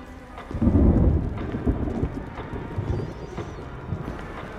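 Rolling thunder and steady rain from a storm in the Resident Evil video game, with a faint crackle of fire; one loud low rumble swells early, then fades under continuing rain.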